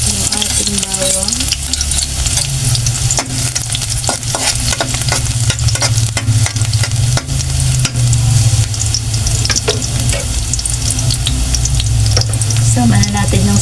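Garlic sautéing in hot oil for squid adobo, a loud, dense, continuous sizzle and crackle close up, with scraping stirring strokes throughout.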